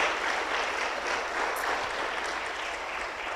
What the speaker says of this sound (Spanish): Dele palmas